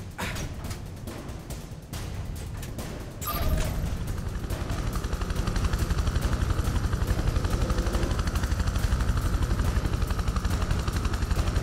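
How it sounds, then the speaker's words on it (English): Helicopter rotors thump rapidly and continuously in the Prototype 2 video game, growing louder after a few seconds and holding a steady chopping pulse with no speech. "They've deployed some of the helicopters."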